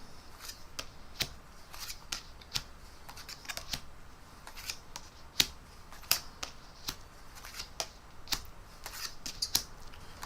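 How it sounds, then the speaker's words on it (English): Playing cards are dealt face up one at a time during a card trick, giving a string of crisp close snaps and flicks at an uneven pace over quiet background. "if we deal another 5 cards on top, 1, 2, 3, 4, 5, and then I'm going to keep looking face up"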